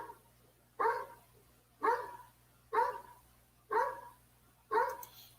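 Dog barking from a played recording, five loud single barks spaced about a second apart, fairly close and clear over a faint steady hum.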